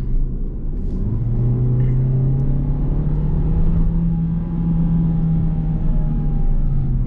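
A 2020 Peugeot 2008 with a 1.6 engine and automatic gearbox accelerates up a mountain road, its engine note rising smoothly and droning steadily, heard loud and close from inside the cabin with no talking.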